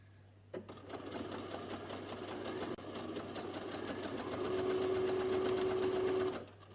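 A sewing machine starts up after a moment of quiet and runs continuously, a rapid mechanical whirring stitch that grows slightly louder and steadier before stopping abruptly near the end, close and alone.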